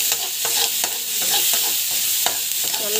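Onion, garlic and tomato masala sautéing in a kadai for a ridge gourd poriyal, with a steady sizzle under repeated scraping and clattering stirring strokes, close and fairly loud.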